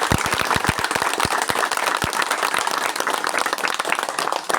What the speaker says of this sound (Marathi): खणखणी टाळी व्हायला पाहिजे